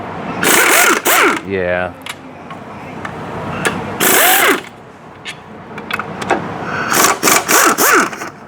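An impact gun taking transmission bolts off a 2001 Firebird with a 4L60E gearbox, sounding in loud rattling bursts of a second or so each, one whining rundown, close up, with a brief spoken word.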